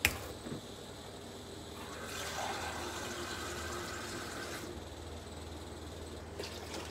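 Tap water runs into a pot for pasta, a steady close gush that shifts in pitch as the pot fills, starting after a short clatter, in a home kitchen with no speech.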